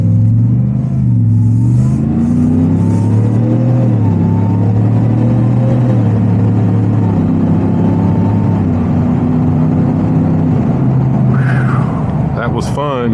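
A lowered, supercharged 2026 Ford F-150 truck accelerates hard, its engine note climbing and dropping through several gear pulls in a loud, sustained roar heard from inside the cab, with a brief voice near the end.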